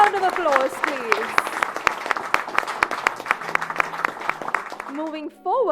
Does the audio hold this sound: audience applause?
yes